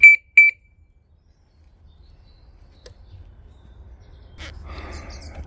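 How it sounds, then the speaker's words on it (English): A newly fitted car alarm on an older car chirps twice in sharp, loud beeps when armed by remote, followed by quiet rustling and then engine or handling noise building at the end. "And now we should have a working alarm"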